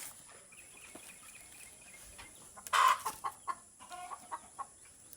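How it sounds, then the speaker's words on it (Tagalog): Chickens on a rural farm cluck in bursts: a louder squawking outburst near the middle, then several shorter clucks over a faint steady background. "Manok dayon."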